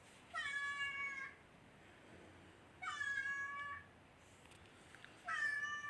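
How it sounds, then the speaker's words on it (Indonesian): A cat meows three times at even intervals, each cry drawn out and tonal, fairly faint against low background hiss with no one speaking. "Kucing mengeong untuk mengekspresikan diri dan berkomunikasi"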